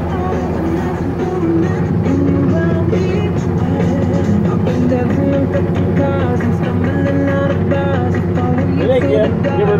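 An AGCO Allis 9435 tractor runs steadily while baling, its loud, dense engine drone holding constant and close throughout, with a busy mechanical hum layered over it.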